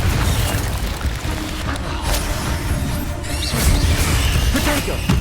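A Confringo blast spell in Hogwarts Legacy on PS4 lets off a loud, dense, booming explosion with crashing debris in the middle of continuous combat noise.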